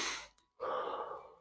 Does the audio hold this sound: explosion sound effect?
no